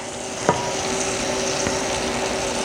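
Maple bourbon glaze of butter, maple syrup and Buffalo Trace bourbon brushed over peaches on a Traeger grill gives a steady close sizzle with a few soft brush taps.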